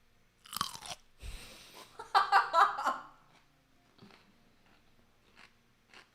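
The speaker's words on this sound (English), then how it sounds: "That was a really crunchy pickle." Crunchy pickle bitten and chewed close to the mic, a few sharp wet crunches in a quick cluster followed by fainter scattered chewing sounds in a quiet room.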